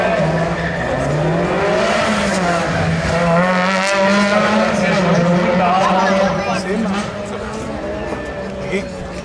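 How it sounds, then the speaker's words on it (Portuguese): Peugeot 206 race car on a super special rally stage in Trofa, its engine droning loud and close with a pitch that rises and falls throughout, while voices carry over it. "um concorrente é o número 14, Ricardo Silva, Peugeot 206. Este um dos carros que anda no troféu."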